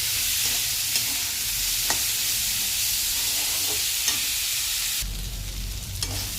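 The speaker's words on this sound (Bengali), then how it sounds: "গাজর দিয়ে করবো, এই গাজর দেবো। এভাবে এটাকে ভালো করে ভাজবো" Carrots fry in hot oil in a pan for savoury semolina (suji), a loud continuous sizzle with occasional spoon knocks; near the end the frying shifts to a lower, fuller rumble.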